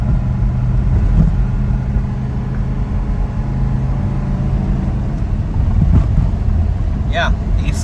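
A Mercedes-Benz W123 300TD diesel car climbs a steep hill in St. Paul, with a loud, continuous low engine drone heard from inside the cabin and a voice briefly present.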